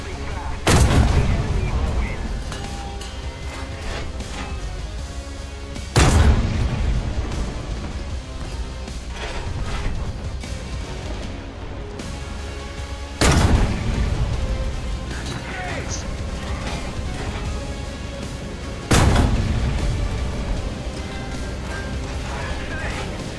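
Heavy tank cannon blasts in a tank video game, four loud booming shots spaced several seconds apart, each followed by a rumbling tail over steady engine and battle noise.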